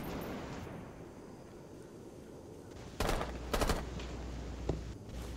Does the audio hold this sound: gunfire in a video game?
yes